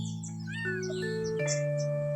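A cat meows with short rising calls on a morning street, over a steady tonal hum and background road traffic.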